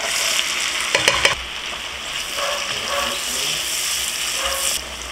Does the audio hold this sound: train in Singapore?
no